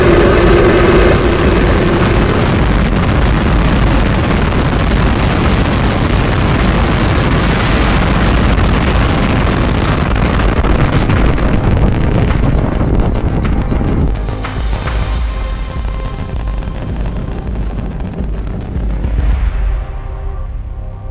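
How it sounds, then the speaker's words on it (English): A SpaceX rocket lifting off at a launch facility, a deep continuous roar loud and broadband that holds steady, then slowly thins and fades as the vehicle climbs away. "We have liftoff."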